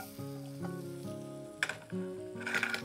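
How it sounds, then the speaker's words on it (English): Garlic and onion hit hot butter in a pan, giving a soft sizzle that flares in brief bursts over a low tonal hum. "Now that our butter is hot, add some of this garlic and this onion in here."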